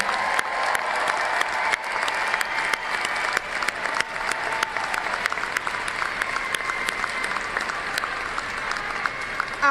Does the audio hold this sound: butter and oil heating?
no